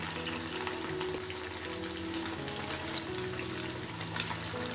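Chicken 65 pieces fry in hot oil alongside green chillies and curry leaves, a dense, steady bubbling sizzle that carries on without pause and without any voices.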